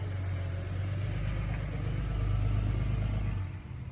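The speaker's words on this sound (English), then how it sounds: "As this truck's rolling by." A truck rolling by on a rainy day, a deep steady engine rumble that swells slightly as it passes, then drops away sharply near the end; no one speaks.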